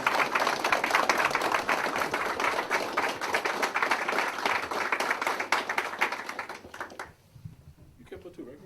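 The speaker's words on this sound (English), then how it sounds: "Round of applause." Applause at a kempo martial arts tribute gathering, steady clapping from a crowd for several seconds with some talk mixed in, then fading out near the end.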